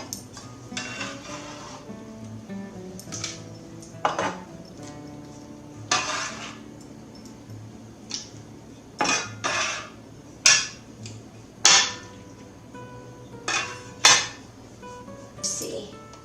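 Kitchen clatter as a bowl is handled while making tomato salsa: repeated clinks and knocks of dishes and utensils, fairly close and irregular, with faint low background hum and some talk nearby.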